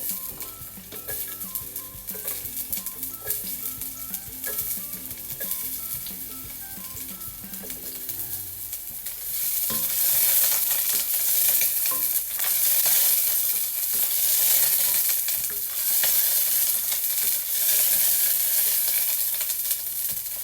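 Garlic sizzles in a hot pan while cooking burong isda, heard as a steady crackling fry that jumps to a louder, brighter hiss partway through, with occasional utensil clinks and no talk.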